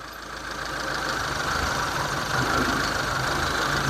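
A 2006 Mitsubishi engine with a waste spark ignition idles with a misfire during diagnosis, a steady close-up hum with faint uneven knocking beats and a slight rise in level partway through.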